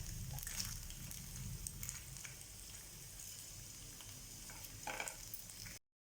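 Soft, steady sizzle of sabudana idli roasting in a pan over a low flame, faint and continuous with light scraping touches, cutting off just before the end.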